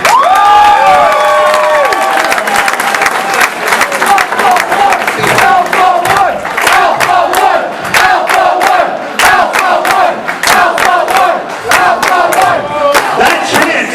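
A wrestling event crowd roars, with loud rhythmic chanting voices and cheering punctuated by dense clapping, close and sustained throughout.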